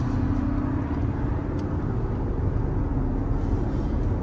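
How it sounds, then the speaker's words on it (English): A black 1998 Mercedes-Benz SL500 accelerates smoothly, heard as a steady, low engine and road rumble with continuous broadband noise and no breaks, loud and even throughout. "the car accelerates very smooth, smooth shifting transmission"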